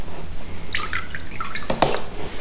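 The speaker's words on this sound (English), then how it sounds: "I'm squeezing from the top here and moving down into the bin, allowing the water to roll down the paper" Water dripping and trickling off a thick sheet of handmade paper squeezed by hand over a bin, a few close, irregular drips and patters over quiet room tone.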